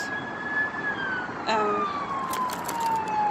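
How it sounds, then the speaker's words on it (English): A passing ambulance siren wails, its steady falling tone drifting overhead with a slight pitch drop as it moves by, heard alone without talk. "an ambulance is coming"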